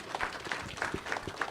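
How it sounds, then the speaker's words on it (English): Sparse, soft applause from a small conference audience for a panel speaker at a Pan African soil information event, a few distinct hand claps in an uneven rhythm, fairly faint. "Let's give him a round of applause."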